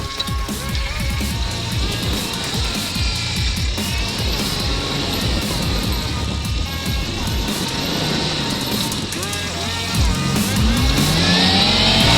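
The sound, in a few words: Chevrolet S10 pickup driving in 4-wheel drive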